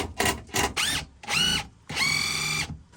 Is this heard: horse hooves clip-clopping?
no